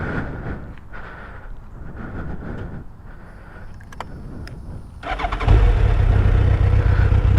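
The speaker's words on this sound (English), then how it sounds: "Starts right up every time, it idles." A 2000 Suzuki Hayabusa motorcycle sits quiet amid faint rustling, then cranks and fires up about five seconds in, settling into a loud, steady, close-up idle.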